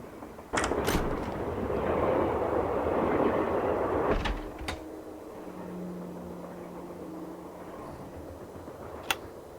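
Train ride in the Nancy Drew game Last Train to Blue Moon Canyon, a steady loud rumbling roar that cuts off to a quieter hum with a low tone and a few sharp clicks.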